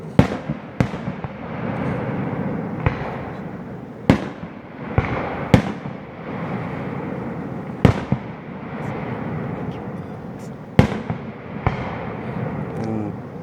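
Fireworks exploding at a family gathering in Lonaconing, Maryland, a steady run of sharp bangs and cracks about every one to three seconds over a constant crackling rumble, loud and fairly near.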